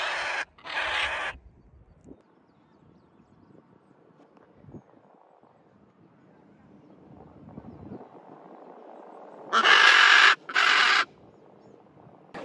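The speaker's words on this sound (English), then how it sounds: "My birds are screaming because of the horses." Loud, harsh parrot screeches aimed at horses, in two bursts, one near the start and one near the end, with quieter outdoor rumble and faint activity between them.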